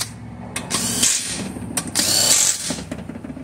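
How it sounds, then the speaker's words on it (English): An impact wrench runs in short bursts while tightening low-torque transmission baffle bolts on a Ford Escape, giving a close whirring, rattling buzz with brief pauses between pulls. "Not because you see me using an impact wrench."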